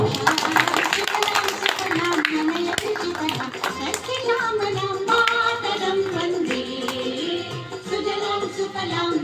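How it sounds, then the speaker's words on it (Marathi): A crowd claps at a village Zilla Parishad school Independence Day ceremony, steady hand claps mixed with children's voices and talk, close and lively throughout. "जरा टाळ्या वाजवूया"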